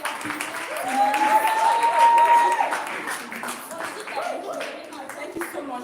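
An audience claps at an event on empowering people with disabilities. Moderate applause swells and fades while a voice talks over it.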